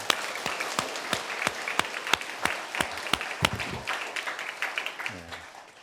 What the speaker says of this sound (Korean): 우리에게 축복 주신 하나님께 영광의 박수 올려드릴까요?